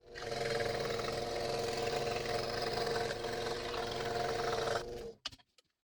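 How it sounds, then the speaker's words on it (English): A scroll saw buzzes steadily for several seconds cutting out a holster piece, a fast rhythmic chatter, then cuts off abruptly, leaving a few light clicks. "I'm going to cut this out on the scroll saw"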